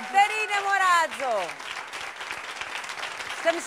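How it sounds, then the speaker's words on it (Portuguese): TV studio audience applause on the Portuguese variety show Sextas Mágicas, a steady wash of clapping that runs under a voice speaking over it at the start and continues on its own afterward. "Uma salva de palmas para os Legião 501."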